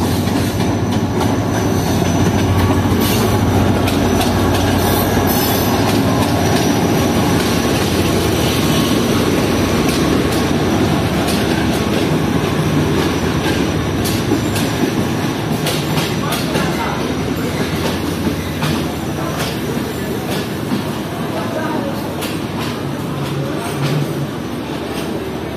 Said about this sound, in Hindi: HGMU जो है ये ट्रेन के लीड पर लगा हुआ है इस वक्त। HGMU 38211।